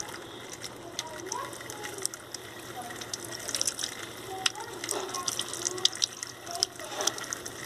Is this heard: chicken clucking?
no